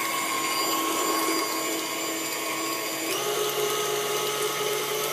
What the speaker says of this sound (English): I love my mixer, my KitchenAid.